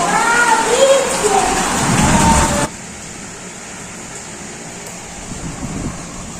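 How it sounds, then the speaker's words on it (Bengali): Rain pours in a dense, steady hiss that drops suddenly to a quieter wash partway through, with a voice briefly heard at the start. "বৃষ্টি হচ্ছে দেখো কিরকম দুর্দান্ত লেভেলের বৃষ্টি"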